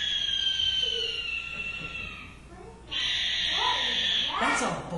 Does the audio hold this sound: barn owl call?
yes